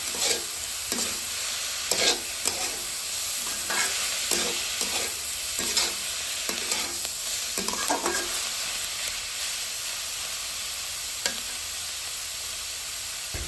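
Cabbage cooking in a pan hisses with a continuous sizzle while a utensil scrapes and stirs it in irregular strokes, close and fairly loud, with no talking.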